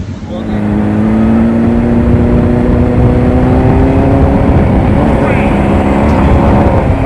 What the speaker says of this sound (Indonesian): Motornya langsung dreng normal, langsung siap dibawa jalan kembali